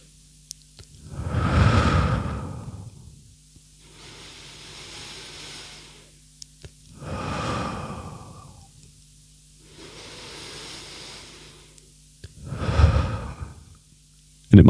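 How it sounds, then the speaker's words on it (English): Three deep, slow breaths taken one after another, each a long inhale followed by a softer exhale, close and unhurried with quiet pauses between them. "just take 3 deep breaths"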